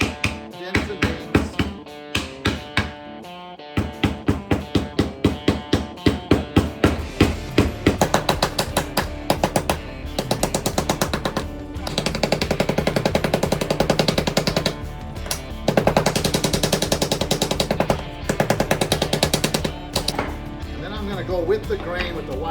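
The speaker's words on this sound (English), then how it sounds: "I'm just gonna go ahead and pound it out a little bit, give it some dents and dings." Wood gets pounded with a hammer to add dents and dings for a rustic patina, in a DIY garage lighting build. Loud, sharp blows land in quick rhythmic bursts, some spaced and some rapid, close to the mic.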